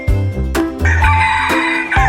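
A Denizli rooster crows loudly and close by, a long drawn-out call with several sharp rising bursts and no voices over it.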